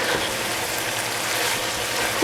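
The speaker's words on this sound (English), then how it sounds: "So that'll just be a quick stir." Green onions and lettuce wrap filling stirred in a hot pan, a steady close sizzle and soft scraping with no talk.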